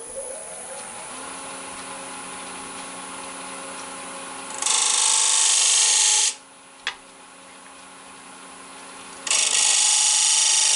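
A wooden bowl spins on a lathe while a tool cuts a small decorative divot, giving a steady motor whir and two loud, harsh bursts of tool-on-wood scraping that stop abruptly, with a brief click between them.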